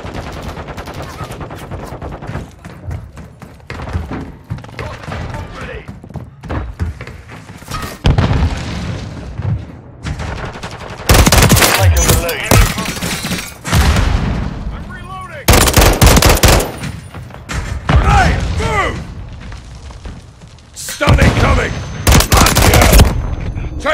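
Team Deathmatch firefight in Call of Duty: Modern Warfare 3 on PS4 Pro: loud, close bursts of automatic fire and booming explosions come in waves, with quieter gaps between them and shouted in-game voice callouts throughout.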